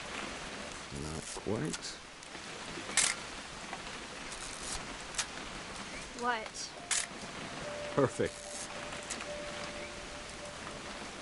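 Light rain patters outdoors as a soft, steady background hiss, with brief spoken exchanges and small rustles and handling noises close by.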